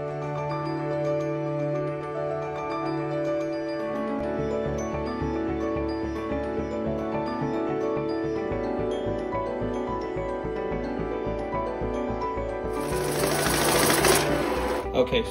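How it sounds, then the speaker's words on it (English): Maxsell Matrix 8120 banknote counter running through a bundle of mixed old and new notes: a steady mechanical whirring and rapid riffling, close and continuous, rising near the end, with a person talking over it. "So now let's count this bundle in the mix mode"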